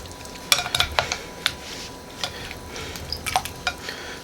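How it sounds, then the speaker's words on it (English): Glazed carrots, glazed with Guinness, stirred in a pan: a spoon scrapes and clinks against the metal in irregular bursts over a faint continuous sizzle, close and fairly loud. "Give it a good stir here"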